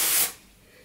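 Redken Pillow Proof Blow Dry 2-Day Extender sprayed onto short, textured curly hair at the crown gives one close, breathy hiss lasting about a quarter second, then fades to quiet.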